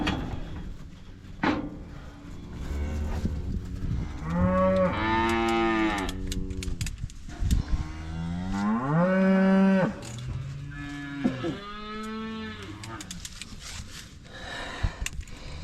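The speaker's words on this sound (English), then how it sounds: "These cattle getting all worked up." Cattle worked up during weaning moo repeatedly: several long, loud, close bellows in a row, separated by short gaps, with faint handling clatter behind them.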